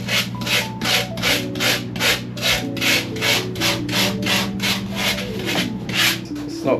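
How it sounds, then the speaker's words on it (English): A blade scrapes the shiny outer skin off a foam taxidermy form for a tahr in about a dozen steady, rhythmic rasping strokes. The scraping is close and loud over a soft tonal background hum. "By scraping that little layer off, it allows the glue to actually stick onto something."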